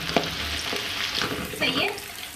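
Chopped onions sizzle in hot mustard oil in a pan, a moderately loud, continuous crackling hiss broken by a few short stirring scrapes and knocks, with no speech.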